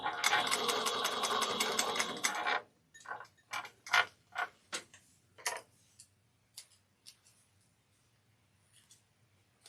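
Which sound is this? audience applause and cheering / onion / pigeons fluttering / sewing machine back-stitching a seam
sewing machine back-stitching a seam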